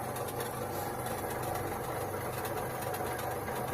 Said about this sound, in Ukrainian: Трошки вентилятор десь тарабанить